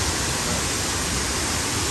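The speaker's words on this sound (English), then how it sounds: "Also a little bit louder over here closer to the falls." A waterfall roars loud and close, a steady unbroken rush of falling water with no voices over it.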